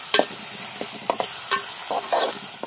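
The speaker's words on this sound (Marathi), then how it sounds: "हा लाल होईपर्यंत परतून घेऊया" Chopped onion stir-frying in a pan over a wood-fired clay stove for Malvani prawn masala, a close, steady sizzle broken by sharp scraping stirs of the spatula.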